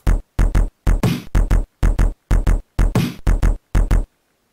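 Protracker module playback with F speed commands switching the tempo back and forth; a loud series of short, punchy percussive hits in uneven groups, with a few longer noisy bursts, ending abruptly in silence.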